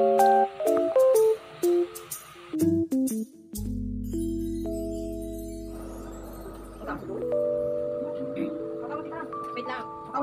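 A phone call being placed, heard as a rapid series of short dialing tones, then a long ringback tone and electronic call chimes, with a voice talking briefly over parts of it.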